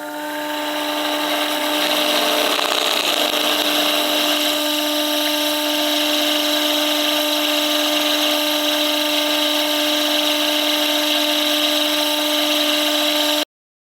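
A lathe bores out a bushing bore with a boring bar, a loud steady tonal whine with a gritty cutting edge that holds continuously, then cuts off abruptly near the end.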